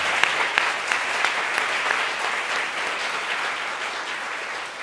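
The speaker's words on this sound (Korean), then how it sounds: "우리 박수 한번 목사님께 감사합니다." A church congregation in Paris applauds the pastor during a Sunday service, a steady patter of many hands clapping together close by, fading gently toward the end.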